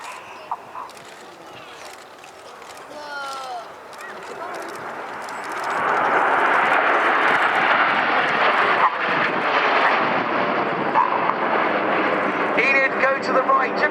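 Red Arrows jets in a flying display at Yeovilton, a distant rumble that swells into a loud, sustained roar as the formation passes overhead, with a commentator talking over it throughout.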